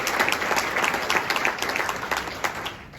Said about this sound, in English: I think our Bishop deserves a round of applause tonight.